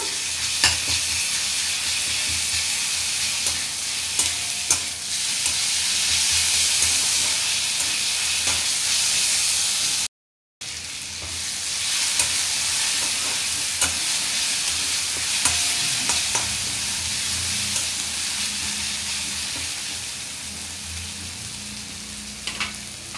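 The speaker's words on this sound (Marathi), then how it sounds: "ते वाटण आपण यात घालूया आणि व्यवस्थित तेलात परतून घेऊया" Green chilli, garlic and cumin paste fries in hot oil with a loud, dense sizzle and hiss that runs steadily throughout, broken by a brief gap and occasional stirring scrapes.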